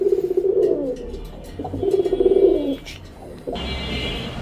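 Pigeons at a pigeon farm in Bangladesh give two stretches of low, throaty cooing close by, then a steady broadband rush of background noise takes over toward the end.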